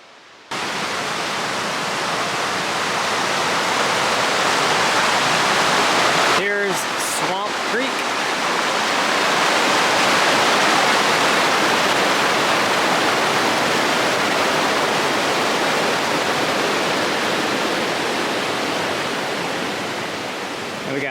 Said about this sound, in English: Very lovely stroll through the woods, following the creek.